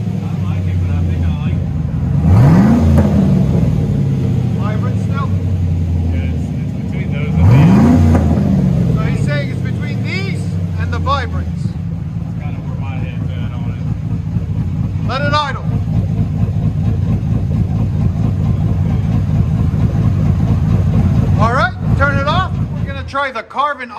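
Cammed Chevrolet Silverado V8 exhaust through a Vibrant muffler, loud and close, with two sharp revs rising and falling early on, then a lumpy, choppy idle; voices talk over it near the end.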